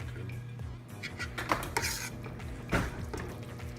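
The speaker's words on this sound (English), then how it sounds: "We're gonna put the enchilada sauce in here and stirring it up" Utensils clink and scrape against a pot as thick enchilada sauce is stirred, with irregular metallic knocks over a steady low background hum.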